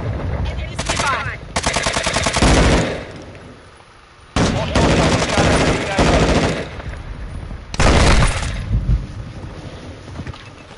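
Submachine gun fire in Call of Duty Modern Warfare 2, three loud rapid-fire bursts separated by brief lulls, with a faint high whine persisting in the background.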